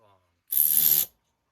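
A Hyper Tough and an S-Long cordless ratchet, both greased, spin in a single loud, steady half-second burst of whirring, buzzing mechanism, up close and alone after a faint moment of quiet.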